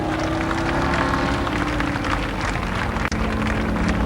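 A speedway grandstand crowd cheers and applauds in a standing ovation for a driver's first heat race win at Columbus Motor Speedway, a dense, steady roar of clapping and voices that holds loud throughout with one brief dip.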